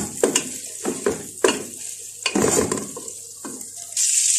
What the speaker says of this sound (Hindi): और ये जब बटर में ये फ्राई होंगी ना